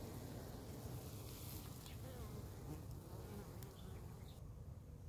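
Honeybees buzz at a hive entrance on a very hot day, a dense continuous hum that stays steady throughout, with faint outdoor background.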